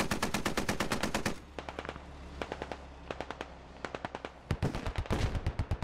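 Rapid automatic gunfire in a tactical military shooter game, with dense, sharp bursts at the start and end and scattered single shots in between, loud and close, with no talk.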